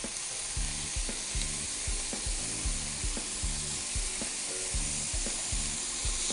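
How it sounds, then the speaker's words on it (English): Flipped burgers sizzle in a hot pan, a steady loud frying hiss with a regular pulsing crackle, heard up close with no talk. "I'm going to flip my burgers over."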